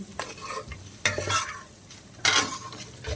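Spices and cumin being stirred and fried in a pan for a potato and egg dish, with scraping stirs in a few bursts over a soft sizzle, close and fairly quiet.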